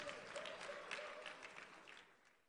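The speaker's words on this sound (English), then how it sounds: "I thought you'd give me a bigger round of applause." An audience at a World Press Freedom Day event gives faint, distant applause. The clapping fades out over about two seconds.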